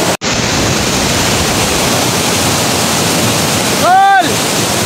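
A waterfall roars in a steady, loud broadband rush close by, with a brief click near the start and a short whistle-like tonal sound breaking through near the end.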